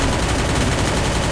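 Enemies fire from behind in the battle royale game Free Fire: a short, loud, dense rattle of rapid shots close by.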